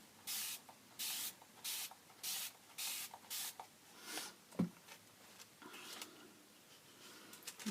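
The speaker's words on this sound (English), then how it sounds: "I'm going to spray it before it all soaks in and dries." Spray bottle misting water onto a mixed media collage with acetate overlay: about eight quick, evenly spaced spritzes in a steady rhythm, followed by faint rubbing and handling sounds.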